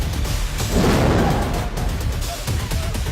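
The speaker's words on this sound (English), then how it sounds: "We got all sorts of air mortars going off." Deep, muffled booms of air mortars going off on a film set, a swelling rumble and whoosh mixed with continuous noisy background, no clear speech.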